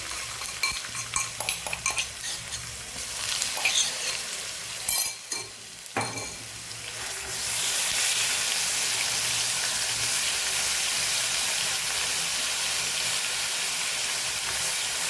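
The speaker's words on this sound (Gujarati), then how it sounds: "કચાશ બધી દૂર થઈ જાય ત્યાં સુધી આપણે એને સાતળવાનું છે" Coarsely crushed garlic and spices with asafoetida sizzle and fry in hot oil for a Kathiyawadi garlic chutney, with stirring and utensil scrapes early on, then a steady, loud, even hiss.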